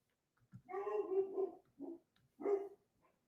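A dog barks nearby in a short series of three or four separate barks with brief gaps between them, the first drawn out and whining, heard alone against quiet.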